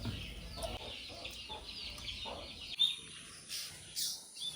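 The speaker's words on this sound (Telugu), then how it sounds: "చక్కగా పక్షులు అయితే ఎలాగా పలకరించడానికి వచ్చినాయి చూడండి" Faint bird calls and clucking from trees behind a house in a rainforest area, with a few sharper chirps and a soft murmur of background noise.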